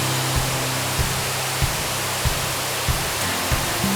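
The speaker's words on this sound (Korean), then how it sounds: "폭포의 장관은 먼저 소리로 다가왔습니다." A waterfall in Fiji roars as a steady, dense wash of broadband noise, with faint low rhythmic thumps pulsing underneath at about even intervals.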